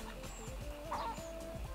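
A big purebred rooster clucks among hens in a backyard coop, a brief run of soft, rhythmic low clucks with a short sharper call partway through, fairly close and quiet.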